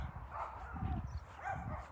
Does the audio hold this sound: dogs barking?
yes